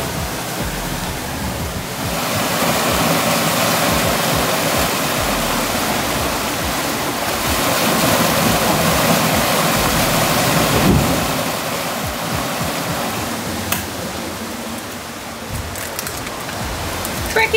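Water rushes steadily past a sailboat's hull while running downwind on a gray day with light rain, a continuous broadband hiss and churn that stays fairly loud and even throughout.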